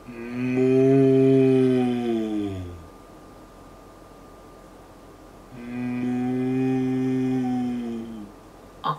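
A cow moos twice, loud and close: two long drawn-out calls a few seconds apart with quiet between them.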